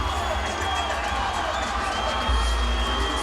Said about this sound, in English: the Perron cheering section goes nuts